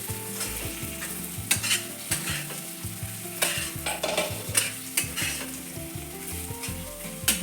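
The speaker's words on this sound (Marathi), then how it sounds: "हे बघा छान मसाला आपला भाजून झालेला आहे" Spice masala for mutton curry fries in a pan with a steady close sizzle, and a spoon scrapes and stirs through it in repeated strokes at an uneven rhythm, no talking.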